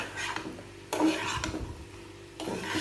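Ripe and green chili paste being fried and stirred in a pan for a dried-fish curry, close scraping and rubbing strokes over a soft sizzle, with a few louder utensil scrapes.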